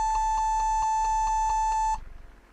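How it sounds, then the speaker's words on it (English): Repeated electronic beeping from a Compaq Presario F500 laptop on startup, a steady high tone pulsing rapidly for about two seconds, then cutting off abruptly into near silence. "Now it's still beeping."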